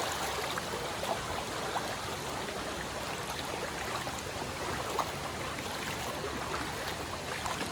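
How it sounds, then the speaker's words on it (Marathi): A swollen river below a Konkan village coconut and areca palm grove rushes strongly, a dense, continuous roar of flowing water, steady and loud throughout with no voices. "इकडे खाली नदी आहे पाणी नदीला जोरदार आले"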